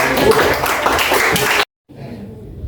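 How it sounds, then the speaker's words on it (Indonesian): Classroom applause for a quiz winner: a brief burst of many hands clapping close and loud, cutting off abruptly into a quiet room with faint murmuring. "Oke, tepuk tangan dulu kepada pemenang"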